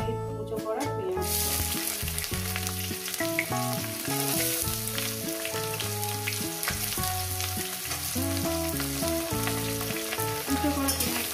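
Dried red chillies, bay leaf and cumin sizzle in hot oil while being stirred, a steady crackling hiss under tuneful background music.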